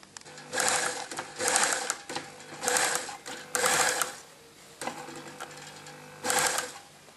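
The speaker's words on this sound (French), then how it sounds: "Je vérifie que je suis bien positionnée pour faire ma surpiqûre." Domestic sewing machine topstitching a throw blanket from a kit, running in five or six short bursts with brief pauses between, a close, moderately loud mechanical whirr.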